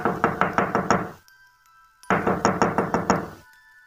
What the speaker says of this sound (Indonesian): ketukan itu terdengar lagi. Kali ini lebih cepat dan semakin intens, seolah-olah ada yang tidak sabar.